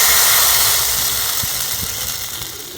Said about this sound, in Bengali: এইভাবে করে প্রত্যেকটা ভেজে নেব।